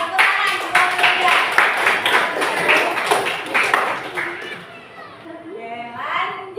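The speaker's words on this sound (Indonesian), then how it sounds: "Tepuk tangan buat Yuda." Children in a classroom clap for a classmate, a dense burst of applause mixed with young voices and chatter that fades out near the end.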